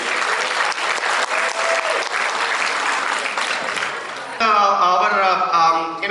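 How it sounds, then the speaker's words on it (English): Audience applause fills a hall at a Diwali community celebration, a steady dense clapping that runs for several seconds before giving way to voices and cheering near the end. "So if you can give a big round of applause to Ajay."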